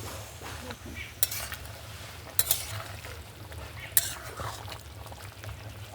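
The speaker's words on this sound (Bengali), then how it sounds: "ভালো করে নেড়ে নেবো সব জায়গাতে ভালো করে মিশিয়ে নেব" Chicken curry with potatoes being stirred after garam masala powder goes in: a continuous bubbling sizzle with scraping spoon strokes and three sharp metallic clinks against the pan, close up.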